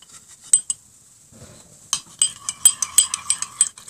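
A spoon stirs microwave cake batter in a bowl, making a rapid series of close metallic clinks and taps against the sides after a brief quiet pause.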